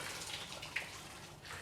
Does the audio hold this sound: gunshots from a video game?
no